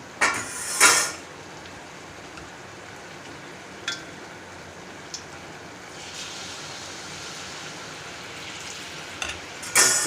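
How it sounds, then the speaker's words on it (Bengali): Malpua batter fries in hot oil with a soft, continuous sizzle, broken by occasional metallic clinks and scrapes from a utensil. "ভোগের জন্য মালপোয়া ভাজা হয় গোপালকে, তাই মনে হলো আমিও ভাজছি।"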